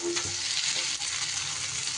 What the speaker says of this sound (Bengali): দিয়ে সব মশলা এবার একসাথে এইভাবে একটু ভেজে নেব